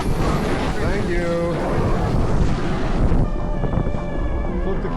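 Strong wind roars and buffets the microphone on a ski slope in a blizzard at about -50 wind chill, loud and continuous, with people talking and shouting over it.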